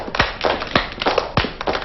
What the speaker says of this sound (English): Can you stomp your feet and clap your hands?